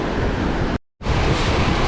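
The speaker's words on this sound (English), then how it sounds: "Stopped here just to get an idea of the force of the water on this bridge." Rushing river water beneath a bridge on the K2 trek toward Concordia, a loud continuous roar broken by a brief moment of silence before resuming.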